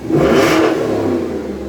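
A Porsche Cayenne S V8 engine revs briefly through four exhaust outlets, a loud throaty swell that rises and then eases off, close by.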